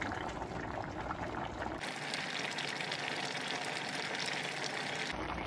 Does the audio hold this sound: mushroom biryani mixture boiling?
yes